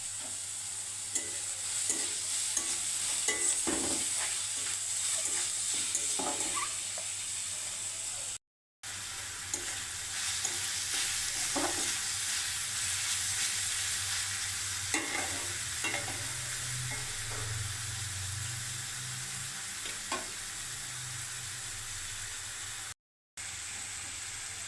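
Onions and green chillies frying in a little oil for eggless noodles, a continuous close sizzle with intermittent stirring scrapes and clanks, no talk.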